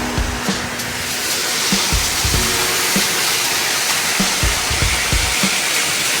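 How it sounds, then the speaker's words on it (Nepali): A waterfall at Sundarijal roars as a loud, continuous broadband rush, with scattered low thumps and knocks nearby and no speech. "झरना"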